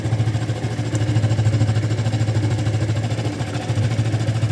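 A Yamaha LC135 motorcycle engine idles close by with a steady low throbbing pulse, running evenly and loudly with no voices.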